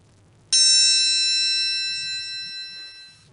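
High-pitched test tone that starts abruptly after a short pause, a pure bright ringing pitch held for about three seconds and slowly fading, with faint low murmur behind it.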